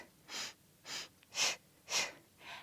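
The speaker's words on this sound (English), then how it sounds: "Inhale, inhale, exhale, exhale." Rhythmic, breathy inhales and exhales during a Pilates hip exercise, five soft puffs spaced about half a second apart, close and clear without speech.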